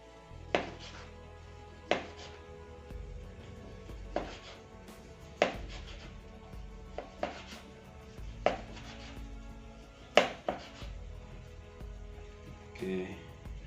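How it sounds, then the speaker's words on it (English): A knife slicing through tomatoes on a cutting board while making homemade beef burgers, with about ten sharp, evenly spaced chops over a low background hum. "Now I will also slice my tomatoes."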